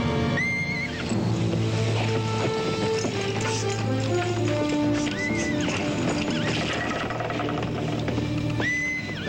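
A horse whinnies loudly several times over a dense, continuous background of hooves and commotion, with a sharp neigh near the start and another near the end.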